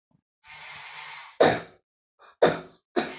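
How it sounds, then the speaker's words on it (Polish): After a long breathy exhale, three sharp, loud coughs ring out close up, spaced about a second apart with silence between. "przepraszam, ale mam kaszel"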